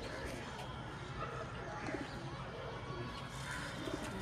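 A pigeon coos softly in the background while someone talks over it, with faint fluttering and shuffling nearby.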